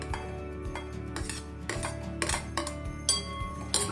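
A utensil stirs onion sautéing in butter in a kadai, giving quick metallic clinks and scrapes against the pan in an irregular rhythm, close and moderately loud.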